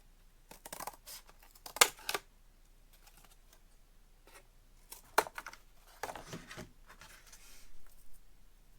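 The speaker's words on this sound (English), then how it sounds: "I'm going to go ahead and cut another piece." Scissors snipping paper for a paper mache troll, a few sharp cutting bursts in quiet surroundings with short pauses between cuts.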